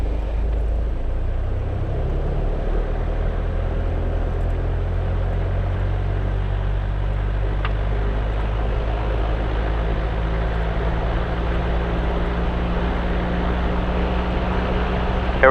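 A light propeller aircraft's engine throttles up to 1,800 rpm for a pre-takeoff run-up at KPAO, a loud close drone that rises in pitch over the first seconds, then holds steady.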